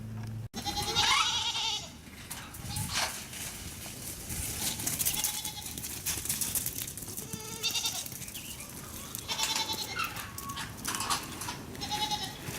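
Goats bleating on a homestead, several loud, close calls repeating at irregular intervals over quiet outdoor background.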